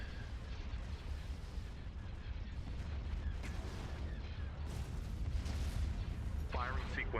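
Starship weapons fire in a space strategy video game, a rumbling barrage of low booms and bursts under continuous talk.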